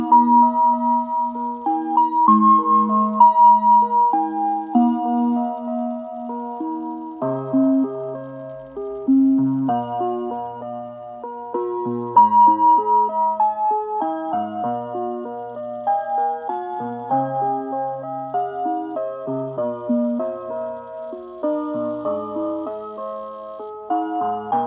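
A musical clock from a collection plays a chiming melody, clear bell-like notes stepping through a tune at a steady tempo, loud and close with no talk.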